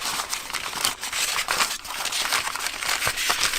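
Close, crisp crinkling of paper being crumpled, with dense irregular crackles and small bursts in a steady flurry.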